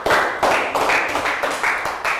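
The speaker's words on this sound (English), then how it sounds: "Round of applause for Ned." A class of young pupils clapping for a classmate in a maths lesson, a close group of hands beating in a loose rhythmic pattern of repeated bursts, loud and bright.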